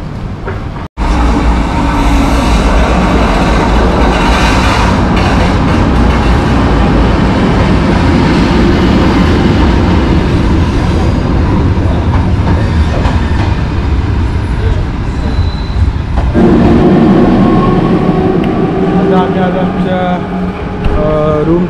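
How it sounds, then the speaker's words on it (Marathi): A train arriving at Zurich railway station in Switzerland: a loud, continuous rumble of rolling carriages with wheel noise that runs almost the whole time and shifts in tone near the end. "इथून ट्रेन येईल."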